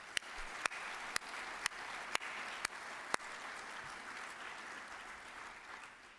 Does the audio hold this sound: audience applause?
yes